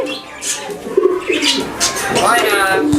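A talking myna bird imitates a human voice as it says its name, a short speech-like utterance mixed with bird calls and whistles, close and fairly loud.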